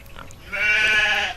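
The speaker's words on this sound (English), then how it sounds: "I hate these sheep so much. These sheep are so annoying." Sheep in a farming video game bleat in a loud, sustained harmonic cry that swells up in the second half, after a quieter stretch of faint background noise.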